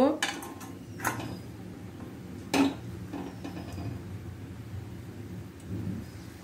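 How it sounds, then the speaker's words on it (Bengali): A metal plate is set onto a stand inside a wok of boiling water for steaming, making a few sharp clanks and knocks spread over several seconds above a low, steady background rumble. "জলটা ফুটে এসছে, এখন থালাটা দিয়ে দেব এর মধ্যে, এটা ভাপিয়ে নেব।"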